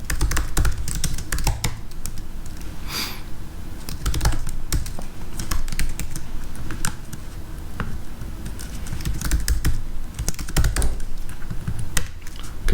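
Steady, close computer keyboard typing as a short hello world program in Python is entered, a continuous run of quick key clicks with brief pauses and occasional heavier strokes, with no voices.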